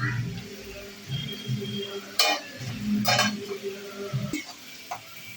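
Kalmi greens (water spinach), watery and soft, are stirred in a pan with a utensil, giving quiet scraping and a few sharp clinks against the metal over a low sizzle, all faint and close.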